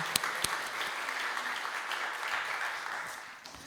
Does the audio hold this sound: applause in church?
yes